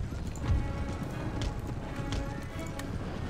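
Cavalry of lancers and light horse galloping across a battlefield in the strategy game Empire: Total War, a dense continuous rumble of many hooves with a few sharper clatters on top.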